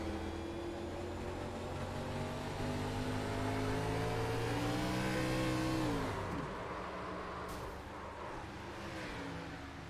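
Onboard engine of a NASCAR-style race car at New Hampshire, loud and close, revving with rising harmonic pitch before dropping sharply as the car loses grip near the pit wall, then settling into a lower drone.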